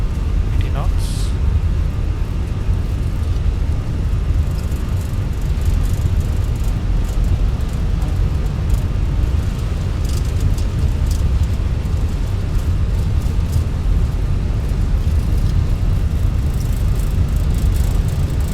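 Fenix A320 jet engines spooled to takeoff thrust during a runway roll in the MSFS 2024 flight simulator, a steady loud broadband roar and rumble holding throughout.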